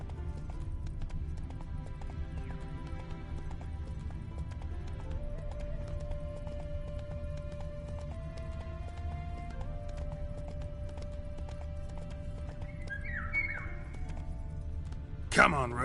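A horse gallops in the video game Witcher 3, its hooves clip-clopping in a steady rhythm. Near the end it gives a short neigh, and a voice talks faintly over the game sounds.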